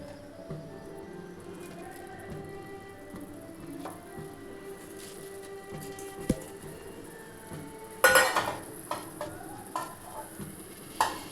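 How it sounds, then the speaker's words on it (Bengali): Shrimp frying in a pan gives a soft, steady sizzle with stirring scrapes. A sudden louder burst of spitting and clinks comes as more goes into the hot pan. "এর সাথে দিয়ে দিচ্ছি আমি চিংড়ি মাছটা।"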